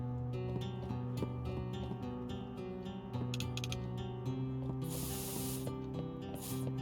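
Spray paint hissing from a can in a video game, several bright bursts of hiss over a steady musical background, one long spray in the middle and a shorter one near the end.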